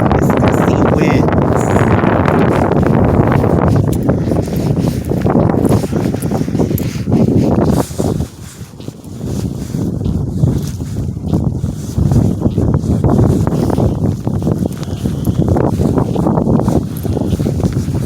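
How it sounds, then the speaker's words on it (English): Gusty wind roars loudly across the microphone, a dense rushing blast that briefly drops around the middle before surging back, continuous and close throughout. "The wind won't stop. Gusty winds."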